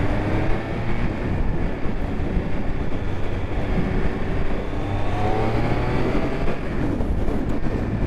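A 2023 Triumph Speed Triple RS motorcycle runs at steady speed as the rider shifts up, giving a loud, continuous engine drone with heavy wind rush, close and without talk.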